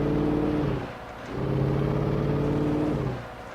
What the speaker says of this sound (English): We're driving this sweet Evil Dead car.